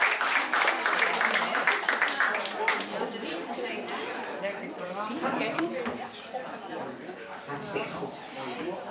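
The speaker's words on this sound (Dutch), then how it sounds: "Ja, doe nog maar eens een goed applaus." Audience clapping at a bridal fashion show, a dense spatter of applause loudest at the start and then thinning into steady clapping mixed with crowd chatter and some laughter through the rest.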